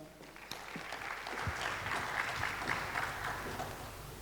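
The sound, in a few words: applause for a musical performance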